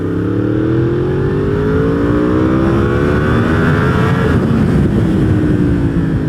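Yamaha R1 motorcycle in low power mode accelerates hard in first gear, loud and close, with its engine note climbing steeply in pitch over several seconds before leveling off near the top.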